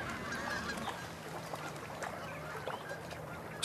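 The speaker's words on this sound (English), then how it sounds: "The geese are starting to return from their wintering grounds." Distant geese returning from their wintering grounds honk intermittently in a wetland against a low, steady background rumble, the calls faint and scattered.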